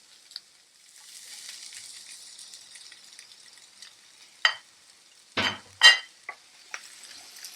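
Vegetables for kadai paneer sautéing in a pan, a soft steady sizzle with a few sharp stirring scrapes and clatters of a utensil against the pan near the end.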